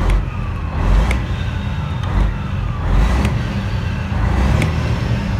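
A diesel engine with a faulty accelerator pedal sensor revs up and down as the pedal is pressed, giving a steady loud rumble that swells in repeated surges, with faint high ticks on top and no talking.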